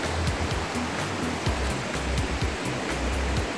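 A river flowing through a forest area near a waterfall, heard as a steady, full rushing wash of water with low churning, continuous and fairly close, with no voices over it.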